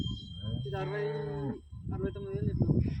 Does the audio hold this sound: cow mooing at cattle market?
yes